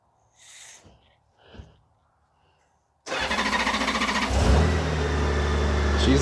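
A motorcycle engine fired up after sitting through winter: a couple of quiet sounds first, then the starter catches abruptly and the engine settles into a loud, steady running rumble that grows a little stronger as it idles.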